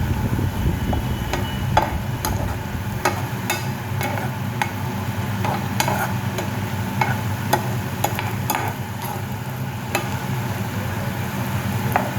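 A banana flower stir-fry is stirred in a pan, a steady soft sizzle with frequent sharp taps and scrapes of the spoon against the pan at an uneven pace, with no talking.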